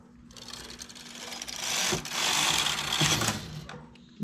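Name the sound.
knitting machine carriage moving to the left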